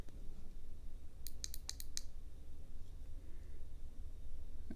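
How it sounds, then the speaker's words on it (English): Three quick clicks of the push button on a Boruit EV10 keychain flashlight, a short bright cluster of sharp ticks close to the mic over a steady background hum, with no talking. "this is a triple click"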